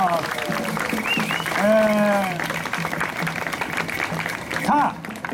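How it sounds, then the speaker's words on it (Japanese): Applause from an outdoor audience at an anti-nuclear rally stage in Shibuya after a comedy duo's set, steady clapping throughout with a host's amplified voice and tonal sounds over it. "もう一度大きな拍手をお願いします。"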